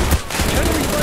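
A brief, loud burst of overlapping gunfire from a Call of Duty Black Ops firefight, rapid close shots crackling in a dense volley.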